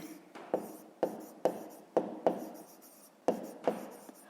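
Handwritten numbers for a fifth-grade math exercise, a pen scratching across paper in short strokes with sharp taps where the nib meets the page, about eight close, fairly quiet strokes.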